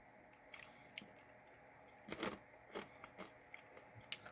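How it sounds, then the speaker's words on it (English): Someone chews a smooth-coated candy piece from a snack mix, with a few soft, close crunching bites and moist chews scattered across a quiet background. "Giving it a chew."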